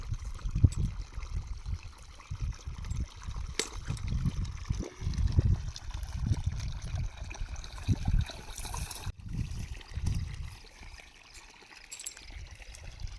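Water trickles and pours steadily at low volume into a snake burrow, a soft gurgling flow into a hollow space, with no voices.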